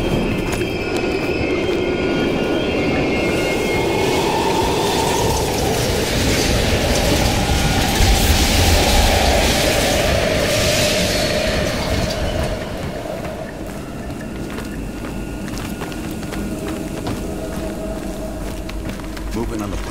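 A train rolls past at an abandoned East German station in Call of Duty: Black Ops Cold War, a loud, heavy rumble with clickety-clack wheels and squeals. It builds, then eases off as the cars pass, with faint voices underneath.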